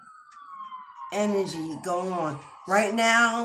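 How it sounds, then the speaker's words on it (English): Police car sirens pass outside a window: a steady, fairly loud wailing tone opens alone, then continues under a close talking voice. "there's a whole crew of police cars flying by my window. Sirens."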